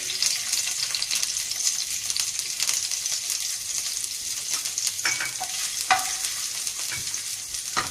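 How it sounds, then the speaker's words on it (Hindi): Chopped garlic frying in olive oil, a steady close hiss and sizzle with a few stirring clicks and scrapes of a utensil in the pan. "अब इसमें ये चॉप किया हुआ हम लहसुन डाल रहे हैं।"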